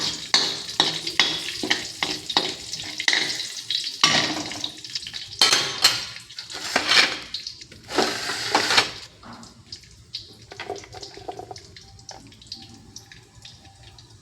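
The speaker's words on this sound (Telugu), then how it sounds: "పోపు వేగుతోందండి" Mustard seeds, cumin, dried red chillies, urad dal and chana dal sizzle in hot peanut oil, crackling and spitting in bursts with clinks and stirring of a pan, then settling into a quieter frying hiss.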